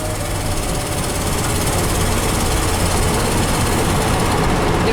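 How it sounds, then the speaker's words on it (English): A 1969 Ford truck's 360 engine runs loudly and steadily with a deep rumble and rough texture, close by, with no other sounds standing out. "These 360s are good engines."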